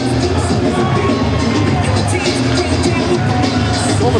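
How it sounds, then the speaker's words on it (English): A large arena crowd at a professional wrestling event roars and murmurs in a dense, loud, continuous wash of noise with no break. "Well, the crowd certainly enjoyed this."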